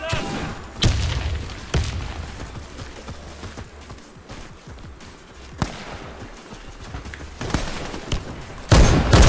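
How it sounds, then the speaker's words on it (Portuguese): Rapid bursts of gunfire crackle through a video game firefight, with a thrown grenade going off in a loud, heavy blast near the end, while voices call out over the shooting. "Lançando granada!"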